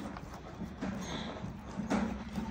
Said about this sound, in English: And this is my horse, Zip.